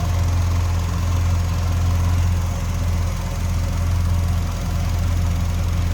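Steady, smooth idle from a 1964 Chevrolet Chevelle Malibu convertible with a 283 V8, a loud, even low rumble close by with no voices.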